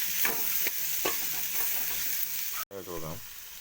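Onions sauté in a hot pan, a steady sizzle broken by several scraping stirs, with a short gap and a brief voice-like burst near the end.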